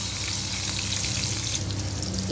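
Chopped onion sizzles in hot oil while bitter gourd and shrimp stir-fry is being made, a steady dense close-up crackle and hiss that stays even throughout, with no talking.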